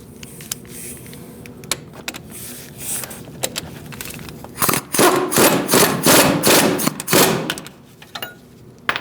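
A bolt is snugged up on a Chevrolet Colorado front CV axle, giving loud bursts of rapid rattling impacts from a power tool, with scattered clanks and knocks before and after.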